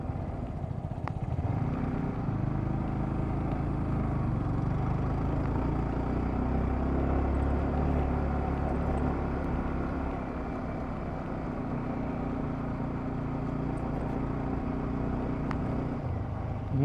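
A Yamaha R15 motorcycle cruising at low revs, around 3,000 to 4,000 rpm, on a ride from Panvel toward Morbe Dam, its engine a steady, close, continuous drone with wind rumble and no talking.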